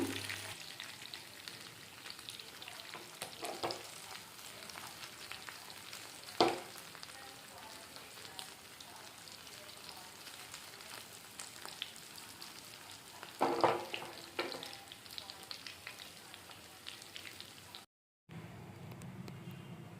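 Fish frying in oil, Andhra style, a continuous close sizzle with occasional clatters and knocks, fairly quiet, no talking.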